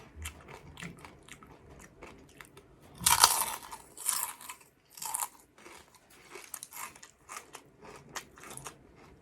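Crunchy baked vegetable snacks, okra among them, are bitten into up close, giving a loud crisp crack followed by a run of crunchy chewing bites at an uneven pace.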